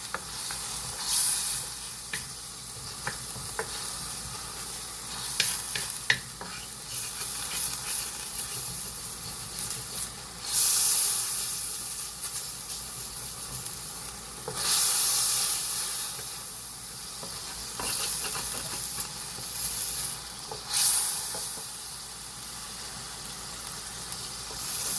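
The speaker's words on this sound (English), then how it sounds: "I'm just gonna make sure that I saute that" Garlic sautéing in a hot pan gives a constant close sizzle and hiss, swelling now and then when it is stirred or the food moves.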